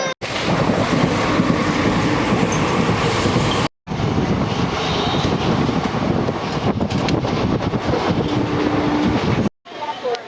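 Loud, continuous rumble of a train from Chennai to Nagercoil running on rails, with rattling and wind noise, heard from inside, briefly cut twice.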